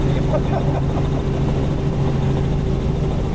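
Helicopter in flight at about 90 knots with rotor RPM reduced to around 90 percent, a steady droning rotor hum with low tonal engine lines running continuously, fairly loud and close throughout.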